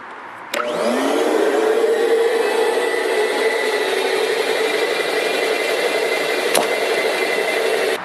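A household vacuum cleaner switches on abruptly and runs at a loud, steady whine, used as the airflow source for a model rocket fiberglass Sky Digger ejection charge test, with a brief click near the end.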